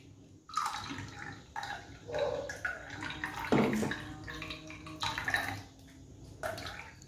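Water poured and splashing while an ingredient is washed for a homemade mosquito-repellent wick, heard as irregular close splashes and trickles with short pauses between.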